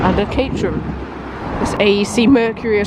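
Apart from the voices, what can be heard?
No everyday noises stand out.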